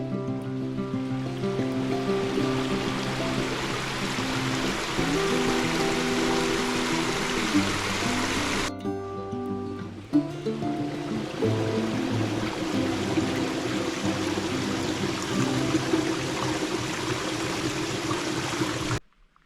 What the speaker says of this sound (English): Gorgeous waterfall.